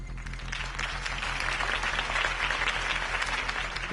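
Crowd applause from the Batman: The Telltale Series video game, erupting after a campaign speech; dense, steady clapping fills the whole stretch at a loud, even level with no talk over it.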